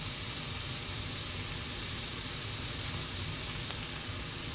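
Paneer sizzles and fries in a hot pan, giving a faint, even hiss that carries on steadily throughout without breaks or voices.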